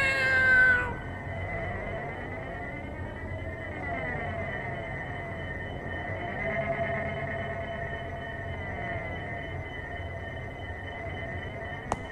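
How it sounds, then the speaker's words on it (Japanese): In an anime scene a cat gives a short, high meow at the start, then a long, droning, wavering tone carries on underneath, steady and moderately loud. "なんだなんだお前たち、あの猫探してたのか。"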